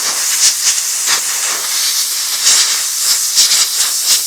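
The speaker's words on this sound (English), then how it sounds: "we're going to clean it out with some compressed air" Compressed air blasts dirt out of a Kubota tractor cab air filter as a loud, close, continuous hiss that pulses slightly as the nozzle moves, with no voices.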